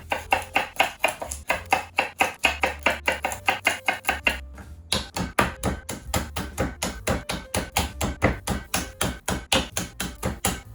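Garlic is chopped rapidly on a board, with a fast steady run of crisp knife knocks, briefly pausing midway before resuming at the same brisk rhythm.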